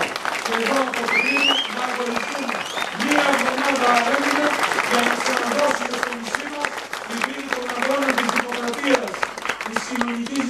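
A crowd applauds and chants at a PASOK political rally in Crete, sustained clapping and cheering throughout while a voice speaks over it.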